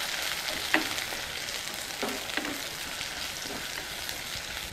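Chopped onions and green chilies fry softly in a pan, a quiet continuous sizzle broken by a few scraping stirs of a spoon, with no talking.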